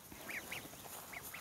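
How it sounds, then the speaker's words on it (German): Ducks on an alpine farm quack several times in short, nasal bursts, fairly close and moderately loud against a soft outdoor background. "Also unsere kleinen Entchen sind überhaupt nicht mehr so klein."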